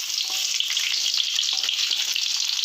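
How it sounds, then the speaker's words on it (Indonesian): Garlic sizzles loudly in hot cooking oil for a stir-fried corn and pumpkin-shoot dish, a dense, steady crackling fry with occasional stirring scrapes and no talk. "tinggal kita masukkan bawang putihnya."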